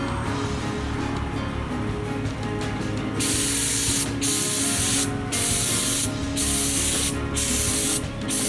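A spray gun lays clear coat on a car, first a low background hum, then a loud hissing spray in repeated passes of about a second each, separated by short pauses.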